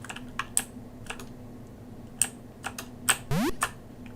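Keys clack on an Acorn Electron computer keyboard during play of the game Strykers Run. Scattered single presses fall over a steady electronic hum, with a short rising synth game sound near the end.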